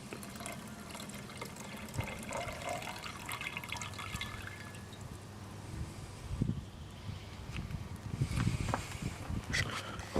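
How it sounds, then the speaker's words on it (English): Liquid solution poured off gold mud from a beaker while refining a gold ring: a steady close-up splashing trickle with a few louder gurgles and drips near the end. "So I'll just pour off this solution."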